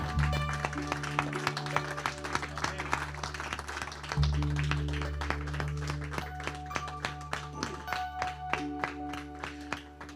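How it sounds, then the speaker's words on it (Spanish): A church congregation claps and applauds through a worship moment, a dense wash of hand claps sustained for about ten seconds over a steady low instrumental drone, with sharper individual claps scattered throughout. "Démosle un fuerte aplauso al Señor."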